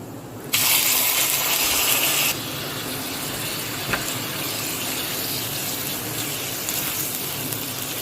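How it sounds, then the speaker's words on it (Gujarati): Soaked basmati rice tipped into hot ghee in a pot gives a loud hissing sizzle for about two seconds, then settles into a steady, quieter frying crackle with a few faint clinks. "જે પલાળ્યા હતા 20 મિનિટ બાસમતી રાઈસ એ એડ કરીશું"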